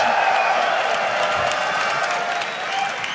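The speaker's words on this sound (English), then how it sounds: "Rightful applause after that victory for you guys." A crowd applauds steadily after a victory in a 2014 North American Counter-Strike finals, a dense wash of clapping with faint cheers, holding loud throughout before easing slightly.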